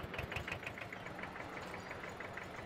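An Eicher tractor in Farming Simulator 17 runs with a rapid, even diesel knock, a steady chugging idle just after starting, heard alone at low volume.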